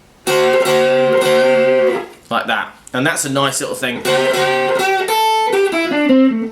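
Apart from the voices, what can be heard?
electric guitar half tone string bends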